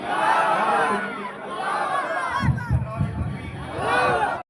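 A crowd at an Islamic sermon gathering shouts Allahu Akbar in unison after the preacher's takbir call. The loud collective roar bursts out briefly between stretches of the preacher's amplified speech.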